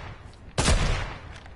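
Loud burst of gunfire from a video game shooter with a supply drop overhead, a sharp onset followed by a ringing, decaying rattle of shots lasting about a second.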